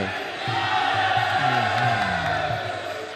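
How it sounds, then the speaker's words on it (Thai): A big crowd roars steadily at a Muay Thai fight night in Patong, a dense and sustained wall of cheering and shouting, with a commentator's voice rising through it. "โอ้โหเสียงเชียร์อย่างลั่นสนามเลยครับ"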